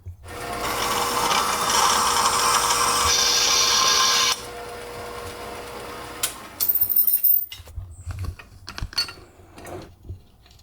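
A power tool cuts through excess threaded rod during a manual transmission swap on a 1969 Mercury Cougar: a loud, steady high-pitched whine for about four seconds, a lower grinding stretch, then clanks and handling noises as it stops.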